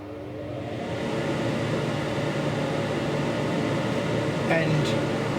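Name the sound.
laser cutter extractor fan running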